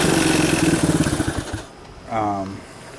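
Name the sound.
1996 Suzuki DR200S motorcycle engine running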